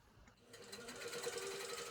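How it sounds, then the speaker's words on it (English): A sit-down quilting machine stitching a larger quilt starts up quietly and rises into a steady, fast mechanical hum with rapid needle pulses, close and moderately loud. "how I quilt a larger quilt on my sit-down machine without a suspension system or anything else"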